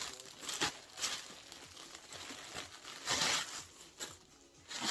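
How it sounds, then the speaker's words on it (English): Soft crinkling and rustling of plastic packaging as a handbag is unboxed, in irregular bursts, close and fairly quiet, with no talking. "So let's unbox this first bag"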